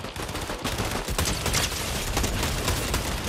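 Rapid, sustained gunfire from Fortnite fills the clip, dense bursts of shots cracking almost continuously at steady loudness with no talking.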